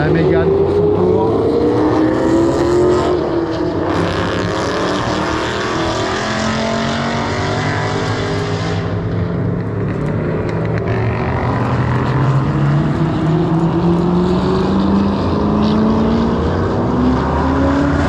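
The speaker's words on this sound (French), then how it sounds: "Alors la Mégane pour son tour." A Renault Mégane driving its lap on a race circuit, its engine a sustained loud roar rising and falling in pitch through gear changes, with other engine noise and voices of spectators talking nearby over it.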